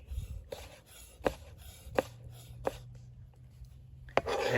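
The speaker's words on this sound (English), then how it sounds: "So you're dicing the cube of the tomato." A chef's knife dices a tomato on a chopping board, giving a series of sharp, evenly spaced taps against the board. Each tap is followed by soft scraping and sliding, and the sounds are close and fairly quiet.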